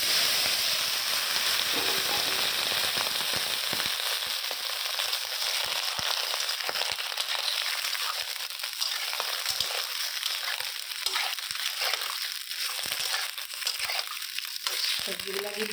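Eggplant, beans and potato tip into a hot pan and fry with a steady, loud sizzle that fills the whole stretch, with faint crackles and stirring scrapes close by.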